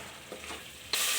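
Masala for pudhina chicken fry sizzling in oil on a hot stove while being stirred, scraping strokes under a hiss that surges louder near the end.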